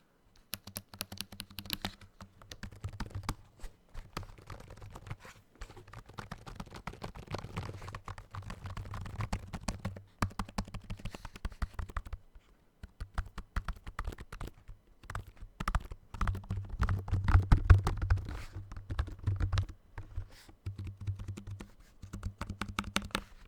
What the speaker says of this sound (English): I guess the most simple trigger we got is the keyboard.